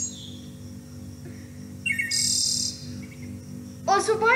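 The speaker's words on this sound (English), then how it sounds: "Okay, birds." Synthesized bird song from a Google music composing tool: short bright chirps and a high trill over a steady low electronic hum, ending in a louder burst of rapid tweeting.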